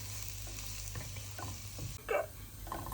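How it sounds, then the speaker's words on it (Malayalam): Spice powder is mixed and fried in a pan for mutton curry. A faint, low sizzle runs under quiet spatula scrapes, and one louder scrape stands out midway. "ഇനി ഇതെല്ലാം കൂടെ നമുക്ക് നന്നായിട്ട് മിക്സ് ചെയ്ത് പൊടിയുടെ മണമൊക്കെ ഒന്ന്"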